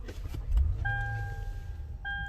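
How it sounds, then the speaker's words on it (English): A Toyota Landcruiser's push-button start gives a brief low engine rumble, followed by two clear electronic chime tones from the dash inside the cabin. "So one cool thing about this is push start."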